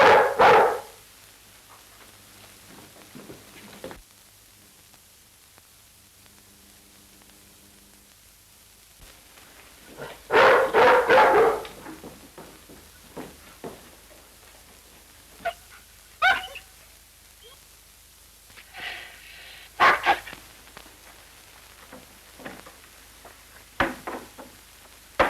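A dog barks in a few separate sharp bursts spread across a quiet stretch, fairly close, with faint whimpers and yips between the louder barks.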